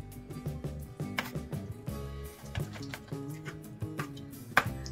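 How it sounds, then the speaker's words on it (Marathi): A knife finely chops a medium tomato on a board, a steady run of crisp close taps in an irregular quick rhythm, with a faint ringing ping now and then. "एक मीडियम साईजचा टोमॅटो, तोही आपल्याला बारीक कट करून घ्यायचा आहे।"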